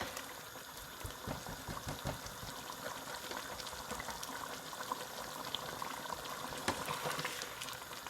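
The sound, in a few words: mutton and tomatoes cooking in a pan over high flame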